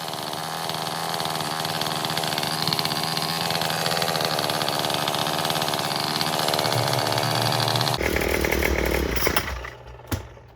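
A Craftsman string trimmer's small two-stroke engine idling loudly and steadily after a carburetor clean, then abruptly cut off and dying away.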